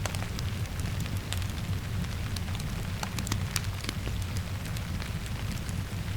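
Steady rain pattering on a surface blends with a low, continuous crackle of a fireplace, a constant close wash of sound with scattered sharp ticks and pops and no voices.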